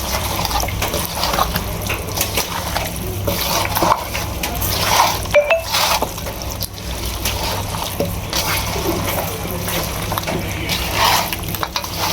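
Meat curry with potatoes fries in oil, giving a steady close sizzle mixed with stirring and liquid sounds throughout, no talking.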